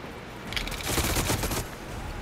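Video game gunfire in a tank combat game, a short, loud burst of rapid shots rolling together over about a second.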